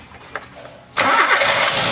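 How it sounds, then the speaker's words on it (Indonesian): A car engine cranks and fires up abruptly about halfway through, settling into a loud, steady idle; a car with a faulty MAP sensor being checked in a workshop. "Coba hidupkan mesin."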